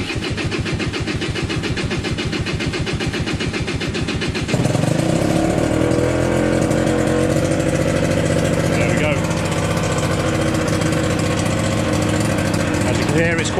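A Peugeot Speedfight 2 100cc two-stroke scooter starts with rapid cranking pulses, then catches into a loud, steady, buzzing idle that runs for about nine seconds.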